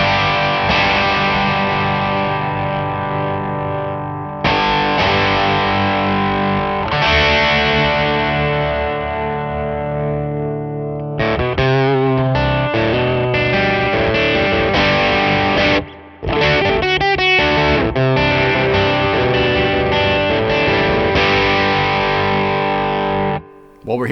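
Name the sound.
guitar through EQ, cocked wah sound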